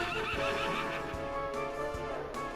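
A fire horse monster in Dragon Quest XI lets out a loud, wavering whinny that rises and falls over a couple of seconds, with faint hoof clip-clops underneath.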